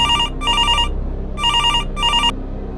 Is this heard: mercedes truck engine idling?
no